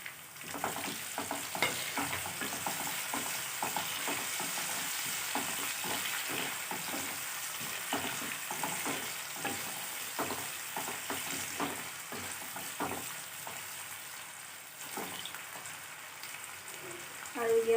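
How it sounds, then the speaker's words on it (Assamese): Onions and tomatoes frying in a pan for a jackfruit curry, a steady close sizzle with repeated stirring scrapes running throughout, and no talking over it. "মোৰ পিঁয়াজখিনি ভজা হৈ গৈছে। এতিয়া মই ইয়াত দিম বিলাহী 2টা কাটি লৈছিলোঁ।"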